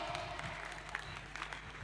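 An audience at Tekna 2026 applauds: faint, steady, even clapping from a distance, with a few voices mixed in.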